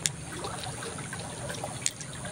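Water trickles and dribbles softly at low volume, with a couple of brief splashy clicks. There is no speech.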